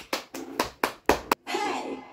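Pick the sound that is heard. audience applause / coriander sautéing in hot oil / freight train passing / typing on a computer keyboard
audience applause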